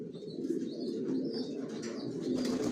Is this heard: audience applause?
no